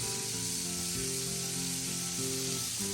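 Steak kabobs sear in a hot pan. A loud, steady hiss of sizzling fat runs throughout without a break, with a faint background hum underneath. No one speaks.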